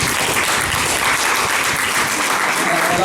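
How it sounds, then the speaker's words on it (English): A workshop audience applauds a panel, dense steady clapping from many hands filling the room, loud and sustained throughout. "let me ask us to give a warm round of applause for a great panel"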